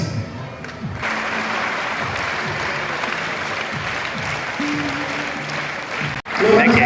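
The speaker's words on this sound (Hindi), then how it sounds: "देखिए साथ तालियां हो रही है।" Steady applause from a crowd at a ceremony honoring a former village head in Rajasthan, dense clapping continuing for several seconds with a voice speaking over it.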